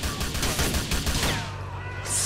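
Video game gunfire in GTA: The Ballad of Gay Tony, a rapid fusillade of overlapping shots and bursts for over a second, then thinning out as a faint high hiss rises at the end.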